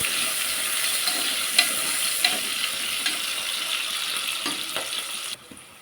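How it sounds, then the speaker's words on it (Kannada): Chopped onions fry in a pan for a dill-leaf rice bath, with a continuous close sizzle broken by a few sharp stirring clicks before the sound drops away at the end. "ನೋಡಿ ಈಗ ಈರುಳ್ಳಿ ಸ್ವಲ್ಪ ಫ್ರೈ ಆಗಿದೆ"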